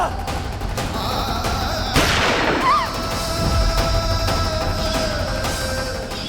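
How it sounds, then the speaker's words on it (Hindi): A single loud, sharp gunshot-like bang cracks out against a steady noisy background, followed by a brief fading rumble. "मैंने ईशा जी की माँ पे गोली चला दी"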